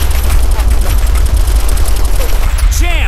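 Rapid gunfire from Operation Flashpoint: Red River crackles loud and close in a dense, unbroken fusillade of overlapping shots, with brief voices mixed into the battle noise.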